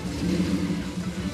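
A flat-plane-crank V8 muscle car engine rumbles and revs briefly nearby at a car meet, a deep throaty growl rising and falling over just over a second.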